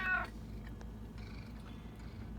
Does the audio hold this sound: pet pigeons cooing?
no